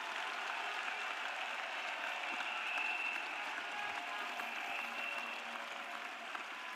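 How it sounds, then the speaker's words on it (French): Congregation at a French-English church service claps together in sustained, steady applause that fills the room without pause, no voices standing out above it. "Clap for Jesus."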